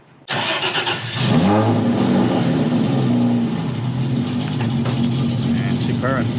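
A BMW E30 Spec racecar engine starts up and settles into a steady, loud rumbling idle with a brief rev, heard close up with faint voices around it.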